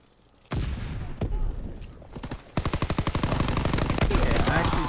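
A shooter video game erupts in loud, close gunfire: a few separate shots at first, then a long, fast machine-gun burst of evenly spaced rounds that keeps building toward the end.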